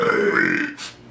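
A man gives a single loud, close burp, followed by a short breathy exhale at the end.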